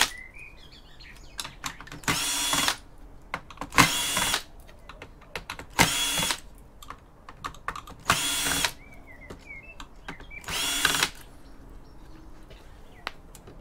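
A power drill whirs in five short, loud bursts as screws come out of a scrap laptop, with quiet clicks and handling sounds between them and faint birds chirping in the background.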